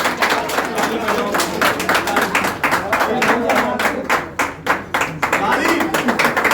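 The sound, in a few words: people clapping at an academy inauguration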